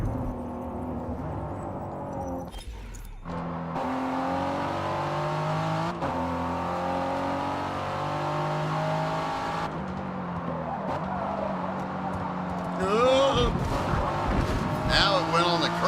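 A Ford race car in the Forza video game hits the curb while its engine drones steadily, shifting pitch through gears, with rougher tire and engine noise near the end.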